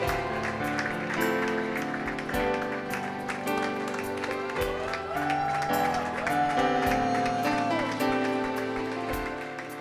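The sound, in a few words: congregation applauding and cheering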